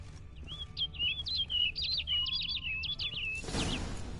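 Bird chirping in The Witcher 3 video game, set in Toussaint: a quick series of bright, twittering calls close by, ending with a short burst of rustling noise like wings flapping away.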